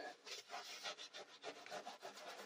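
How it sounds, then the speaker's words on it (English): A damp sponge scrubs an oil stain on a rough surface, giving a continuous gritty rubbing in quick back-and-forth strokes, close and fairly quiet throughout. "And I'm going to put moisture on there first, and then lots of elbow grease."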